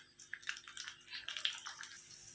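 Liquid mixture fried in ghee being poured into a dish in a home kitchen, a faint, continuous trickling and splashing that stays quiet throughout; no talking.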